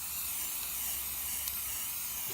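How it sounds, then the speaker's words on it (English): A steady, close hiss of aerosol spray paint coating a pistol magazine, continuous and fairly quiet, with a faint click near the end. "I want to put the mag in there and spray the mag as well"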